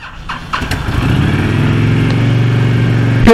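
A 2007 Honda VTX 1300 motorcycle engine cranks with a few starter clicks and then fires up, settling into a loud, steady, rumbling idle close by with no talking.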